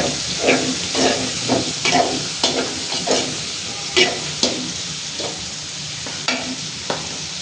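Green chilies frying in a pan for a bitter gourd dish, with repeated stirring scrapes over a steady sizzle, close and moderately loud.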